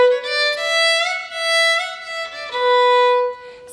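Solo fiddle plays the B part of the Swallowtail Jig, a traditional Irish tune, with slides into notes; a clear, close bowed melody in lilting phrases with no talking.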